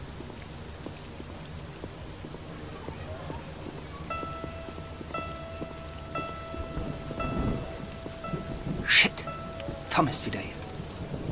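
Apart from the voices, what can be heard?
rain and thunder in Black Mirror II video game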